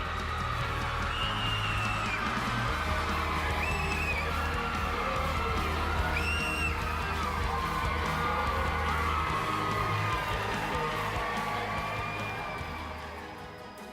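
Two young children scream, whoop and cheer nonstop on meeting Nicki Minaj, shrill excited shrieks over a busy crowd-like din that eases slightly near the end.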